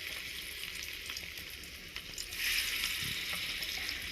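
Fish frying in a pan in a small home kitchen, a steady bright sizzle of hot oil that swells louder partway through, with light stirring scrapes and no voices.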